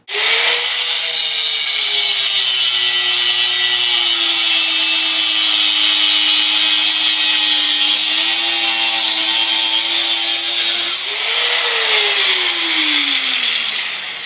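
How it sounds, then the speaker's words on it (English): An angle grinder with a very thin disc cuts steel stock for a knife blank, a loud continuous whine held steady for about eleven seconds before spinning down. "But I'm just going to use an angle grinder with the thinnest disc, and it cuts the quickest."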